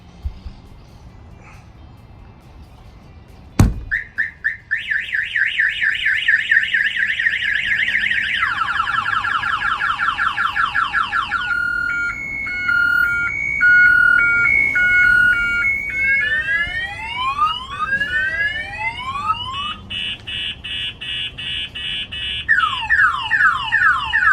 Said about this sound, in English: if the alarm fires off, he'll receive the alert